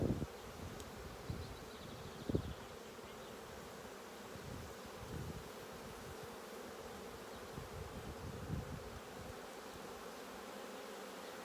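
A dense, steady drone of many honeybees buzzing together around a hive, close by and continuous, with a few brief knocks on a frame early on.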